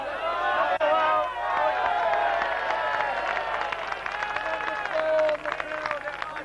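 A crowd at a lawn bowls match, the 1985 All England championship, breaks into applause and murmuring after a shot, a sustained wash of clapping and voices with a commentator talking over it.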